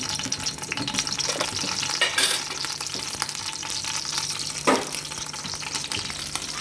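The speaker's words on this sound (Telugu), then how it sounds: "ఇప్పుడు పోపు కోసం పాన్ హీట్ పెట్టుకున్నాను రెండు మూడు ఎండుమిర్చి విరిచి వేసుకుంటున్నాను" Dried red chillies broken into hot oil for tempering crackle and sizzle steadily and up close, with a couple of brief sharper spits and scrapes.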